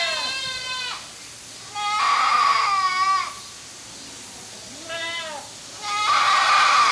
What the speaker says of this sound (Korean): 우리 염소 소리를 한번 들어보겠습니다.